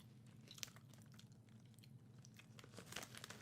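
Crunchy Cape Cod kettle cooked potato chips being chewed close up, a steady run of crisp crackling bites with two sharper crunches standing out, over a low background hum.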